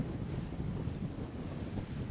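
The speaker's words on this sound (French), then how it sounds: "ça souffle bien, 18 nœuds" Strong 18-knot wind at sea aboard a sailboat off Toulon, a steady low buffeting roar across the microphone with water rushing beneath, no voices.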